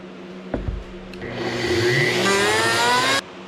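A router bites into scrap wood while cutting a tongue and groove, with a sharp thump and then a loud, rising whine for about two seconds before stopping abruptly.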